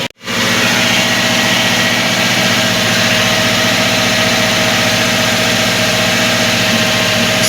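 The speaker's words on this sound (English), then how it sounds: "Yeah, so we've started the engine. It runs for 10 minutes" An SUV engine that had been running low on oil idles steadily and loudly after starting, a constant close-up rumble with a low vibrating hum and no speech.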